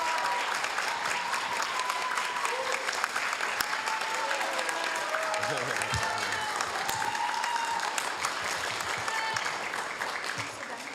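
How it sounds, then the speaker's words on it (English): Audience applause at a Hayward city council meeting welcoming the city's new poet, a dense, steady clapping from a roomful of people that carries on throughout and tapers slightly at the end. "let's give Mo Kim Tong a big round of applause"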